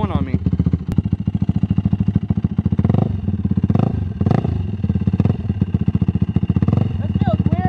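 A Yamaha YFZ quad's engine idles while warming up, a loud, close, steady chugging putter with a few brief rises in revs, as people talk over it.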